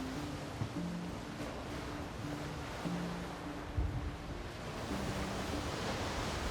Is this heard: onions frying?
no